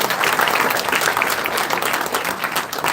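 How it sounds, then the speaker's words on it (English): Loud, dense applause from a large crowd, steady and sustained throughout with no pauses. "Ladies and gentlemen, let us give them a big round of applause"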